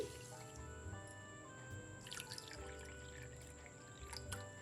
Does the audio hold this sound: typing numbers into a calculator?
no